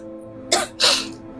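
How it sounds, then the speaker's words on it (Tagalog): Two short, sharp coughs from a woman, close and fairly loud, spaced about a quarter second apart over a quiet background hum. "Inuubo ka na naman"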